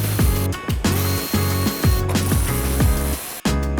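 Steady clicking of a ratchet tightening 10mm bolts on the grill of a 2024-2026 Ford F-150, with repeated quick runs of pawl clicks, close and clear, and no talking.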